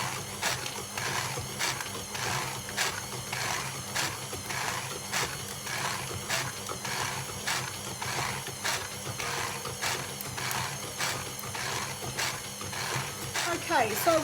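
Sugar mixture for blueberry muffins being stirred in a bowl, steady rhythmic scraping strokes repeating about every half second, close and moderately loud, with a louder clatter at the end.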